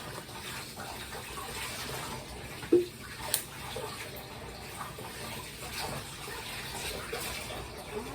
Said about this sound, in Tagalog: Yung baso na plastic, lagyan mo ng tubig.